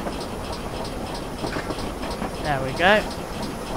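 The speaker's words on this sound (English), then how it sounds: "What a wonderful bark this loco has." Steam locomotive exhaust bark from a small prairie tank engine in Train Simulator with an enhanced steam soundpack, rhythmic chuffs over steady rolling rail noise, with a brief whistle-like rise near the end and someone speaking briefly.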